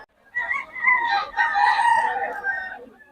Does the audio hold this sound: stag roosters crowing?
yes